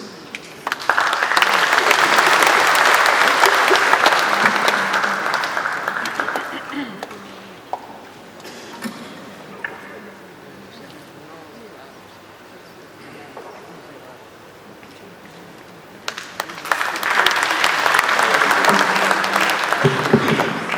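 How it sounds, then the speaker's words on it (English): Audience applause at a Ugandan ceremony honouring a widow, a burst of sustained clapping for about seven seconds, fading to quieter room noise with murmurs, then a second loud round of clapping near the end. "Another hand clap for such a courageous lady"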